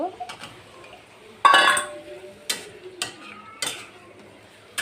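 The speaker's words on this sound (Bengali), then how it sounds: "টমেটো দিয়ে একটু নাড়াচাড়া করে রান্না করে নেব।" Tomatoes are stirred into spice paste in a pan: a loud metallic scrape and clatter, then several lighter, separate knocks of a spoon against the pan at a slow, uneven pace.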